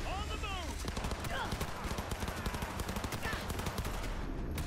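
Rapid automatic gunfire in the video game Cyberpunk, dense close bursts of shots rattling continuously with game effects and voices mixed in.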